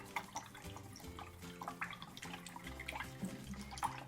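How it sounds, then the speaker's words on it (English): Paintbrush being rinsed in a cup of water after red paint, soft swishing and light dripping sounds, faint and close, under background music with no talk. "So wash your brush out from the red."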